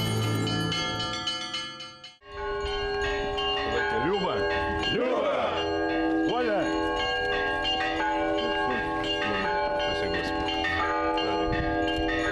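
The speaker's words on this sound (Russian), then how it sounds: "будет радовать прихожан своим колокольным звоном" Church bells ring at Saint Nicholas church in Ufa, a dense, resonant peal of overlapping strikes sustaining throughout, briefly dipping near the start before continuing loud and full.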